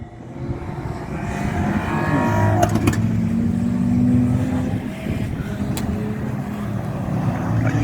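Banger racing cars collide and churn around Crimond Raceway during an end-of-season demolition derby, engines roaring continuously with a couple of sharp crunching impacts midway.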